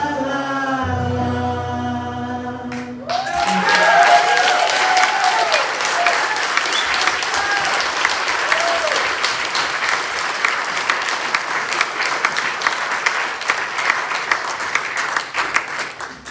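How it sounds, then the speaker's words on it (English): Singing crowd at an Edinburgh May Day rally breaks into loud, sustained applause and cheering after the music ends, a dense close wash of clapping continuing to the end. "Oh, come on, big round of applause, guys!"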